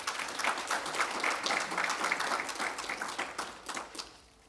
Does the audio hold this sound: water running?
no